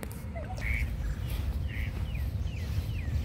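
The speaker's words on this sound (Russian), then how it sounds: "Мама, почему они так кричат? Крякают." Ducks on a pond give a few short, faint quacks and calls, spaced out over a steady low outdoor background.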